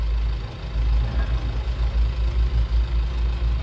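FAW diesel truck engine idling close by with a low, steady pulsing throb and an even rhythmic knock, no voices over it.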